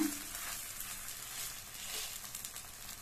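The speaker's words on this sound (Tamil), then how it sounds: "இப்ப தோசையை பரட்டி போட்டுக்கலாம். லைட்டா இந்த மாதிரி பிரஸ் பண்ணி விட்டுருங்க." A wheat dosa sizzles on a hot pan just after being flipped, a faint, even frying hiss holding steady for a few seconds with no talk.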